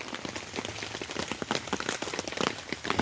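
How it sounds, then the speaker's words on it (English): Heavy rain drums on a tarp over a hammock camp, a dense, constant patter with sharper drops hitting close by. "it's pissing down with rain"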